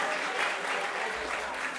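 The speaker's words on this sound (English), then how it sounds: "be sure to hold applause" Applause from a packed crowd at an evening assembly, a brief dense wash of clapping with voices mixed in.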